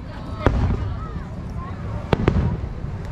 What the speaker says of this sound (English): It's a fireworks show